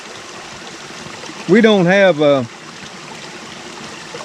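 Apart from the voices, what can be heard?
water flowing in a woodland stream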